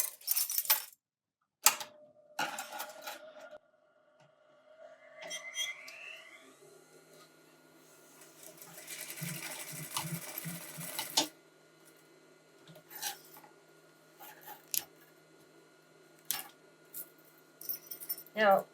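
A sewing machine stitching laminated cotton for a crescent bag, running in a brief, close mechanical burst of rapid stitches, with scattered handling clicks and a person talking around it.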